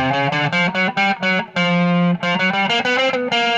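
Distorted electric guitar plays a quick run of single notes, a brief held tone in the middle, then more rapid stepping notes, loud and upfront.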